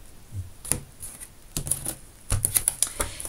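A deck of tarot cards being cut by hand, a quick run of crisp, close clacks and taps as the cards are split and restacked.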